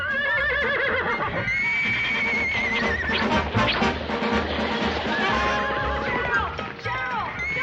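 A horse whinnies loudly and repeatedly at close range, with long wavering neighs and snorting, continuous over several seconds amid faint background noise.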